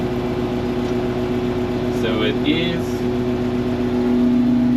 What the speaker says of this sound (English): Exhaust is leaking on it. Might sound a bit rough on the camera, but it actually is a very smooth engine.